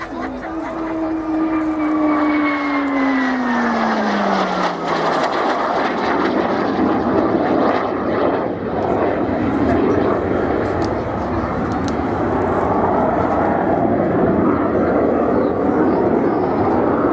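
A 1958 T Mark 7 aircraft in Mid-Air Squadron livery passes at the Yeovilton air display, its engine tone sliding downward as it flies by before settling into a loud, broad roar. A commentator talks over the sound.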